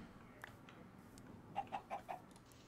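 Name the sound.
chicken clucking in the Minecraft video game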